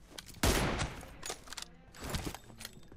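Gunfire in PUBG Mobile: a loud close shot with a sharp crack, then several quieter shots and bursts spread over a few seconds.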